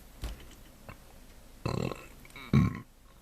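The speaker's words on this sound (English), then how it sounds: "Sorry, I burped." A man burps several times after a big Korean barbecue dinner: a small gulp, then two louder, throaty belches close to the mic, the last the loudest.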